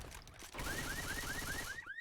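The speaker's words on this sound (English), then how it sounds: "BB Jam hit the alarm car" A car alarm set off in a video game, a rapidly repeating rising electronic whoop running steadily for a couple of seconds over busy game noise and distant gunfire, with no one talking.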